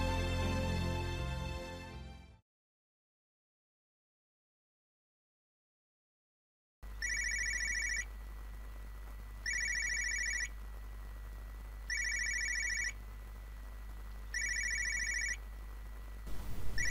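A brief musical passage cuts to silence, then a telephone rings in four evenly spaced electronic trills over a low background hum.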